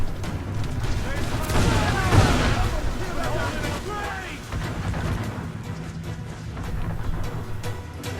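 Ship cannons fire in an Assassin's Creed IV naval battle, with rumbling booms and one heavy blast near the start over a constant roar of combat and water, while voices talk over the action.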